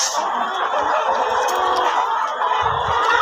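Chickens clucking and murmuring close by over a steady broadband hiss, a continuous busy coop chatter.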